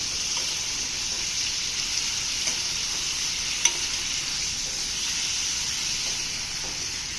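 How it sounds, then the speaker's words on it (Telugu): Paneer cubes fry in oil on a low flame for dhaba-style lasooni palak paneer, producing a constant soft sizzle and hiss with occasional faint stirring taps. "పన్నీర్ క్యూబ్స్ సిమ్లో పెట్టుకోండి ఫ్లేమ్ పన్నీర్ని ఫ్రై చేస్తాము"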